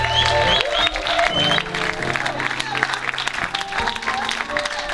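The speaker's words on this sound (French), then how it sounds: "Est-ce qu'on peut acclamer pour cette jeune femme?" A church congregation claps and cheers loudly for a young woman. The steady applause is mixed with voices and background music.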